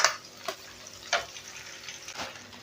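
Onions and garlic fry softly in oil in a pan, a faint low sizzle broken by three or four quiet spoon taps and stirs, with no voices.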